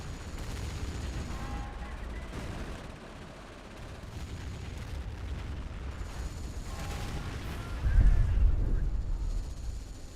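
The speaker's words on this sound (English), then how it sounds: "Yeah, the heavy artillery is bombing." Heavy artillery bombards in a video game as distant rumbling booms and scattered gunfire, with a heavier thump near the end, all under a continuous battle din.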